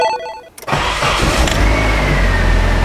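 Nissan S14 engine cranks briefly after a moment of quiet, then catches and settles into a loud, steady running roar close by.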